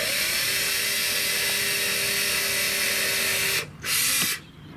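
A power drill bores a pilot hole while a bike rack and trailer board are fitted, a loud steady whine that runs continuously, then cuts out briefly, restarts and stops.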